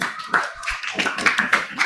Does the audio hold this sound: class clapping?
yes